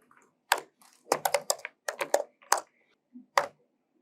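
Keystrokes on a computer keyboard during a command-line session, coming as irregular clusters of crisp clicks with short pauses between bursts, close and clear against a quiet background with no talk.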